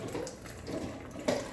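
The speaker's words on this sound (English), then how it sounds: "then you pour half a cup of lukewarm water in" Half a cup of lukewarm water poured over a packet of active dry yeast in a kitchen, a steady soft splashing trickle lasting a moment with a slightly brighter splash near the end.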